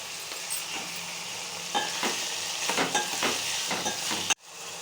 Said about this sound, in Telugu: ఇది ఒకసారి తిప్పండి